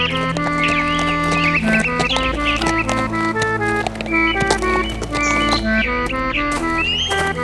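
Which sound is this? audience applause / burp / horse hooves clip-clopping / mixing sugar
horse hooves clip-clopping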